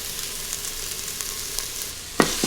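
Three cloves of minced garlic hit a hot pan of stir-frying beef for a rendang, giving a steady bright sizzle that swells into two sharp crackling bursts near the end, close and alone.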